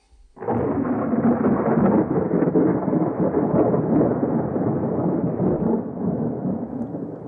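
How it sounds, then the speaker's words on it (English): A thunderstorm effect accompanies a story, as thunder bursts in abruptly and rolls on as a dense, continuous rumble. It eases slightly toward the end, with no voices over it. "There was a great storm"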